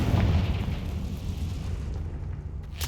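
A Confringo fire spell explodes in the Hogwarts Legacy game, starting with a loud low boom that trails off into a rumbling roar and ends in a sharp burst.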